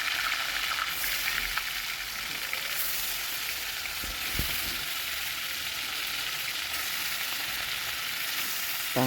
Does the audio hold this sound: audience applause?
no